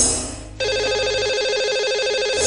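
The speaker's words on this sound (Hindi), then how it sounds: "तो चलिए लगाते हैं इन्हें कॉल और करते हैं इनसे बात।" A telephone line rings as a radio show dials a lucky caller; after a brief quiet lead-in, a loud, steady ringing tone starts abruptly and continues without pause, with no voices.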